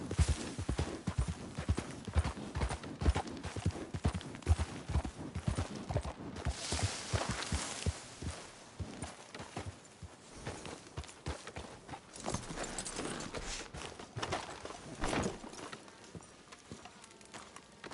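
Horse hooves clip-clopping in the video game Red Dead Redemption 2, a steady, fairly faint walking rhythm that continues throughout without talk.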